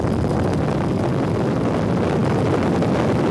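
A steady, dense roar of heavily falling water at Iguazu Falls' Devil's Throat, where twelve falls plunge together, constant and loud throughout with a broad rushing texture and no voices.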